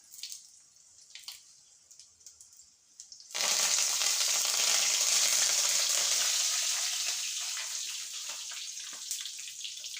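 Dried red chillies and curry leaves hit hot oil for rava and egg upma, bursting into a loud, steady sizzle after a few quiet seconds, the crackle easing slightly as it continues.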